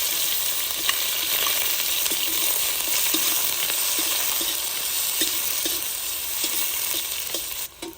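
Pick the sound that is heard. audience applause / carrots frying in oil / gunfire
carrots frying in oil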